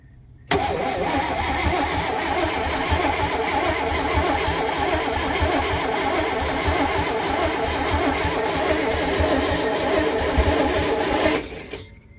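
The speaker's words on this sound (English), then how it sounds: "Do you want to try cranking it over again?" A COE truck engine with a carburetor fuel-supply fault cranks over continuously for about eleven seconds, a steady loud churning drone that stops abruptly at the end, with no talking.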